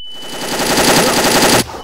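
Rapid automatic gunfire in the dinosaur-versus-soldiers shooter game Dino D-Day, one loud continuous burst of about a second and a half that cuts off abruptly, with no talk.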